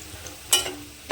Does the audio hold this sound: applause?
no